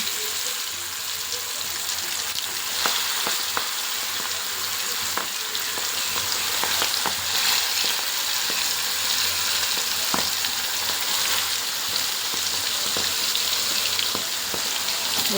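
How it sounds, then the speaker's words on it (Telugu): Spiced fish pieces fry in a pan of oil for fish curry, a steady close sizzle lasting throughout with scattered crackles and small clicks as pieces go in, and no speech. "కారం కలిపి పెట్టుకున్న ముక్కలు పీసులు ఒక్కొక్కటి తీసుకుంటూ ఇందులో వేయాలి."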